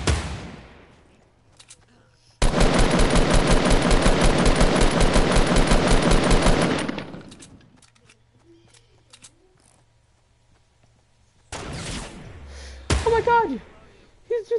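Rapid automatic gunfire in the video game Fortnite: one loud, sustained burst of several seconds, followed by quieter game sounds and a few shorter bangs.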